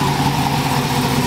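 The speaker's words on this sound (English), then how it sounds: "what type of exhaust do you have? Shit is loud." A lifted mud truck with a Corsa exhaust sits idling, its deep, steady rumble loud and close with a constant droning tone and no break.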